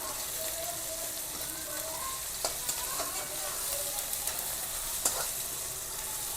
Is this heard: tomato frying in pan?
yes